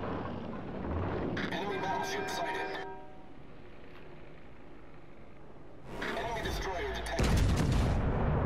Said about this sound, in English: Gonna fire at that Ishizushi.